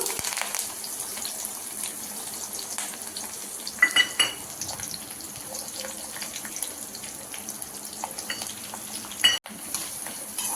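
Lentils, mustard seeds, cumin, chillies and curry leaves fry in oil with a soft, steady sizzle, punctuated by a few clinks of a spoon against the pan and one sharp knock near the end.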